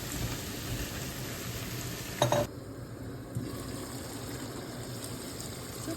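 Cherry tomatoes fry lightly in a pan with a soft, steady sizzle and hiss, close but quiet, broken by a short clatter of stirring around the middle.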